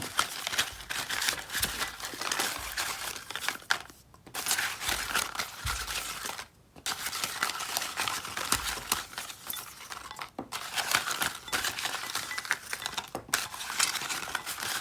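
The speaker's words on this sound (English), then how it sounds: "I'm going to close my eyes and shuffle through, and we'll pull out a few cards" A deck of tarot cards is shuffled by hand in repeated bursts of papery riffling and slapping, close up, with brief pauses between bursts and no talking.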